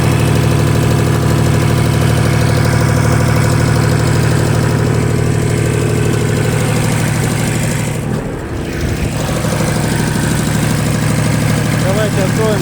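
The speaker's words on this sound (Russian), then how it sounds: "Двигатель работает без каких-либо посторонних звуков, без нареканий." A Shibaura SL1643 Japanese mini tractor engine idles steadily with an even mid-pitched chugging drone and a brief dip, while someone talks over it.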